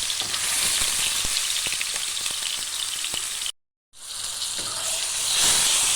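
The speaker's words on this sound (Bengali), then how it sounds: "পটলগুলো একটু লাল লাল করে ভাজতে হবে। এই পটলগুলোও দিয়ে দিলাম।" Pointed gourd (potol) pieces frying in hot oil, a dense, steady sizzle with scattered crackles and pops, close and continuous apart from a brief silent gap.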